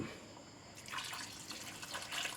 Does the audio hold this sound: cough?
no